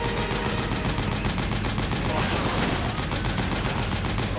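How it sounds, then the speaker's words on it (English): Rapid, continuous gunfire fills Metal Gear Solid 4 as shots pound a gate, a dense, loud, unbroken stream of cracks with no gaps, carried on over the game's background noise. "Sorry, I was busy shooting the gate."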